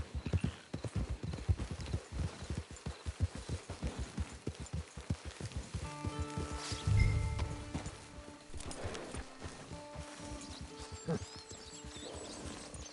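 Horse hooves clip-clop in Red Dead Redemption 2 at a quick, steady trotting rhythm, close and distinct. Partway through, a brief neigh or snort and sustained musical tones join in.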